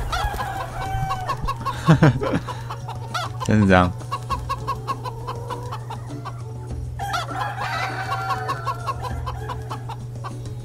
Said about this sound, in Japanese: 市場の方から突然鶏が走ってきて捕まえきれないんだ